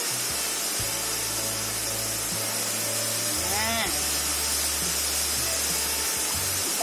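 Fried Banta fish lifted out of hot frying oil, with a loud, steady sizzling hiss running the whole time over low tonal sounds in the background.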